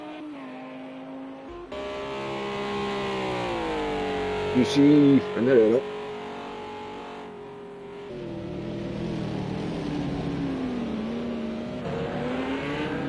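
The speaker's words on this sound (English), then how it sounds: "Another lovely sounding car. More sharper, but lovely sound nonetheless." A GT3 race car engine wails and revs through rising and falling gear changes in a sim racing game at Spa, a sharp, loud note running beneath continuous commentator talk.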